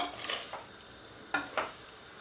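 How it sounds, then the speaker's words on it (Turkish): Meat fries with butter in a pan, making a quiet continuous sizzle broken by a few sharp stirring scrapes and utensil knocks. "Şimdi bu tereyağı ile beraber şöyle biraz kavuracağım."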